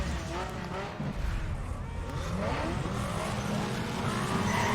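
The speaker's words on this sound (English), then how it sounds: "I over-revved it a bit." A race car in Need for Speed Underground 2 over-revs at the race start, its engine whining and climbing in pitch with tire noise, loud and continuous, while someone talks over it.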